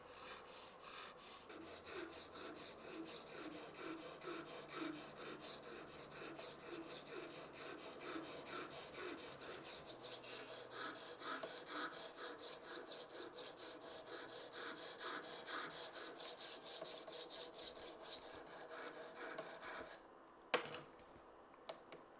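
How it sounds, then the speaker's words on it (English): Steady, rhythmic rasping strokes of a Victorinox scissors blade ground against the cutting edge, close and even throughout, ending with a brief knock. "To prevent that, I grind against the cutting edge"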